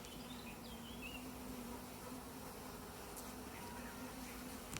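Honey bees buzz with a soft, steady hum from an open beehive during a frame inspection, with a faint bird call early on.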